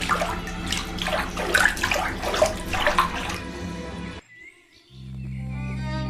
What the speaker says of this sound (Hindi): रवि उस उल्लू को पानी पिलाता है।